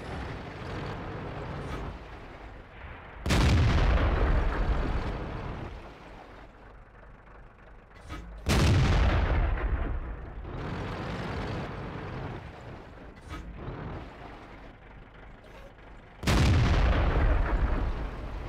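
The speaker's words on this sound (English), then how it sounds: "I'm just putting a couple of rounds in just to make sure" A tank gun in the World of Tanks game fires three heavy booming rounds several seconds apart, each a loud blast decaying into rumbling engine and battlefield noise.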